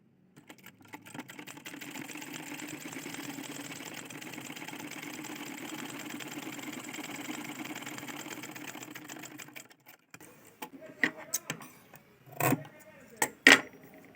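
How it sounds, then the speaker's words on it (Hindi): A blouse is stitched on a sewing machine, its quiet, steady running hum lasting about ten seconds before stopping, followed by a few sharp clicks and knocks. "और एक बार यहाँ से सिलाई लगा दूंगी।"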